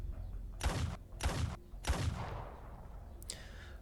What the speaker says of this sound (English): The sound of the gunshot fills the space